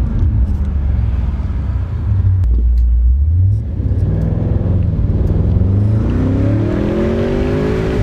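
A 2020 Audi S8 with a custom exhaust revs up and settles repeatedly, its deep rumbling drone rising and falling in pitch, loud and close with no talk.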